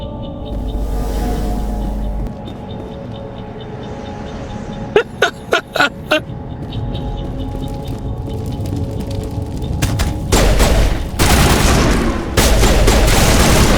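Sharp bursts of gunfire crack through a firefight in the video game Mass Effect, with a quick cluster of separate shots followed by louder sustained volleys near the end, all with no talk over them.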